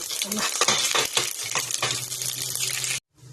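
Cumin and mustard seeds hit hot oil in a pan, a bright crackling sizzle with a few clinks and stirring scrapes, close and loud, ending abruptly into near silence.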